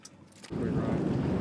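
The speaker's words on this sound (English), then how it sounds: "the update is someone turned the wind on" Strong sea wind of about 20 mph rushes across the open water by a fishing boat off Florida, a sudden loud, steady roar of gusting air buffeting the microphone after a quieter moment.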